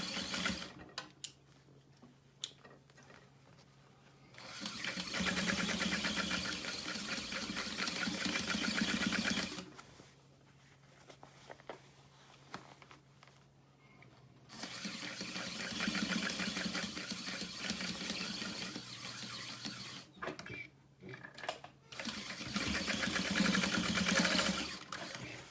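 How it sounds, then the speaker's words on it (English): A sewing machine stitches through the exterior seam of a fabric wristlet in two long, steady runs of motor hum and rapid needle chatter, separated by short quiet pauses with small handling sounds. "I'm just gonna sew through the exterior"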